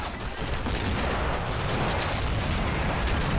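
Dense, continuous barrage of bazooka blasts and explosions in an Army Men tank battle, loud and overlapping with no gaps, rumbling heavily throughout.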